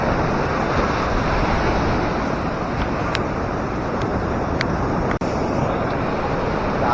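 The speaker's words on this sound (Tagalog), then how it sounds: "laki ng alon guys" Big ocean waves crash continuously as strong wind roars during Typhoon Bebinca, a dense, loud wash of surf and gusts with no voices heard.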